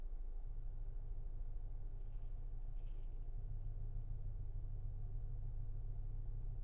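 Synthesised engine rumble from a 2021 Skoda Kodiaq RS facelift, a steady low droning growl that holds evenly throughout with no talk over it.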